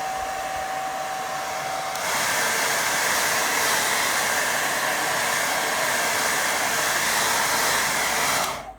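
A hair dryer drying a watercolour painting blows with a loud, steady whooshing roar that shifts slightly in pitch partway through, then cuts off.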